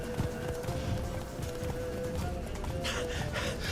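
Roach, the horse in The Witcher 3 video game, gallops with quick, rhythmic hoofbeats, steady and fairly close, faint overall, with a brief whinny-like tone near the end.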